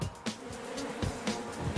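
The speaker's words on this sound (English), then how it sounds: "It takes only a few seconds for thousands of angry, ferocious bees to launch an offensive attack." A swarm of angry Africanized killer bees in Arizona makes a dense, continuous buzzing drone. It is loud and close throughout, with no talk over it.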